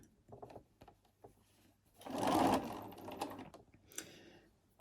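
A sewing machine stitches stretchy jersey fabric for a scarf in a short continuous whir of rapid needle strokes, close by and moderately loud, with light clicks and handling noises before and after.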